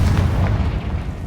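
A Confringo blasting spell from the Hogwarts Legacy video game erupts in a loud, deep boom that rumbles briefly with no talk over it.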